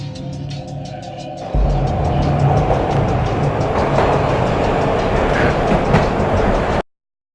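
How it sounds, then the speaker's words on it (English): A train ride in the video game Max Payne: a steady, loud rumble of rolling rail cars with faint clickety-clack, starting quieter then swelling abruptly and holding before cutting off. "This was my second train ride of the night."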